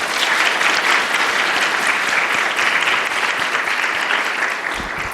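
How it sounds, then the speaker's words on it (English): An audience applauds the speakers at a public health grand rounds session, sustained, even clapping from a sizable crowd that stays loud and dense for several seconds. "I'd like to ask for another round of applause for our speakers."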